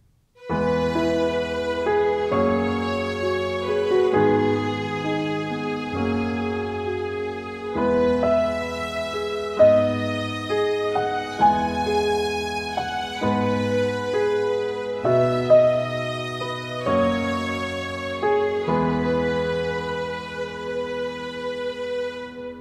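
An orchestral arrangement with piano and second violins plays back in Cubase, sustained chords shifting every couple of seconds in a slow, full and steady texture, with no voices over it.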